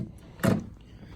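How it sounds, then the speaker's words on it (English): A door closes with a single dull thud at close range, followed by quiet room tone. "close the door."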